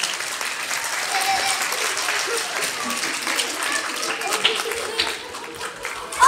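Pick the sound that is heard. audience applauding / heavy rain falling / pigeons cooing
audience applauding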